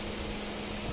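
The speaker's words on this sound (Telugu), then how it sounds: "సో ఇంజన్ నాయిస్ ఇప్పుడు ఎంత స్మూత్గా ఉంది." A Maruti Suzuki Swift engine idling smoothly after a carbon-cleaning treatment, a steady, even hum recorded close up with no voices.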